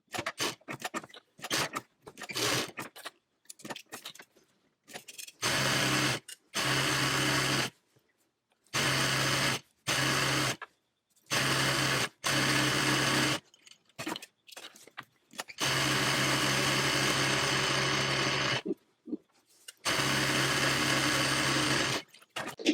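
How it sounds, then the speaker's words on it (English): A sewing machine stitches down the folded edges of a fabric tote bag, running in loud, steady bursts that start and stop repeatedly, with quiet gaps between runs and no talking. "we're going to head to our sewing machine and we're going to stitch down this edge all the way down"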